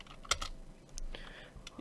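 Quiet keystrokes on a computer keyboard, a short burst of a few close clicks and taps with small pauses between them.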